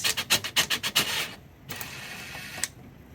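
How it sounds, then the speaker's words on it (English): Self-tapping screws being backed out of a travel trailer's underbelly with a power driver: a rapid run of loud ratcheting clicks that fades to softer mechanical rattling with a brief click near the end. "there are several different self-tapping screws that you need to take out"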